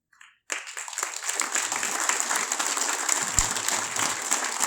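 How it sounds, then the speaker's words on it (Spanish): A hall audience breaks into strong, sustained applause at a tribute ceremony honouring Paraguayan musicians, many hands clapping densely and evenly after a short quiet start. "la verdad que se merece ese fuerte aplauso"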